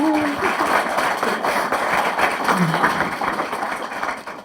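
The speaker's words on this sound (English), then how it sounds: "round of applause, everyone" Wedding guests applaud during the vows, a dense, even wash of clapping after a brief voice at the start.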